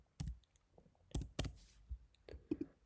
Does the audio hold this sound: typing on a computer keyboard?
yes